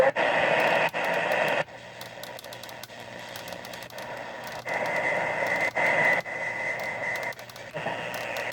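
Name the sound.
Panasonic RF-562DD2 radio receiving a station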